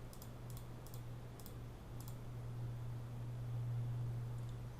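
Staff PIN being typed on a computer keyboard at a childcare sign-in screen: a few quiet, spaced key clicks over a steady low electrical hum, no voices.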